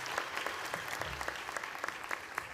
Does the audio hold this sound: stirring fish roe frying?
no